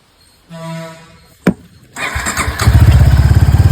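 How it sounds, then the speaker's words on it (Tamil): A Suzuki Gixxer motorcycle is cranked after a repair: a starter whir and a thump, then the engine catches and settles into a loud, close, steady pulsing idle. "வண்டி வந்து ஸ்டார்ட் ஆகுது சூப்பராக"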